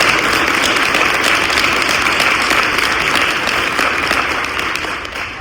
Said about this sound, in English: I just think we all need to give them an enormous round of applause